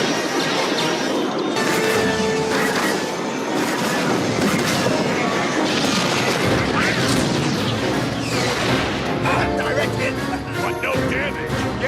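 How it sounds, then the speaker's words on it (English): Explosions and heavy crashing from a movie bombing run rumble loudly and continuously, dense layered blasts and clattering impacts mixed with spoken dialogue throughout. "Bombing run."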